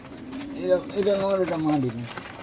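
Blue satin pigeons coo in a soft, rolling call, close and clear, with a voice nearby.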